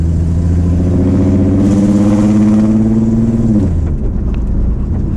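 A Falcon car on hydraulic suspension gives a deep exhaust note, loud and close, holding a steady drone that rises slightly before dropping back to idle.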